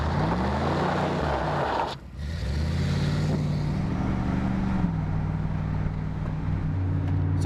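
A new engine in a 1991 Chevrolet 454 SS idles with a deep, steady rumble. A brief throttle dip near the start is followed by a smooth, even idle up close.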